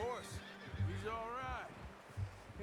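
A horse whinnies in the Red Dead Redemption 2 video game, rising and falling whinny calls with a brief snort, mixed under game dialogue and speech.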